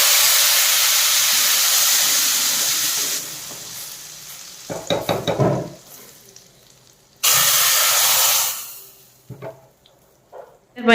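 Tadka tempering sizzles in hot oil for kadhi: a loud, hissing crackle at first, then a few spluttering bursts and a second strong sizzle before it dies away.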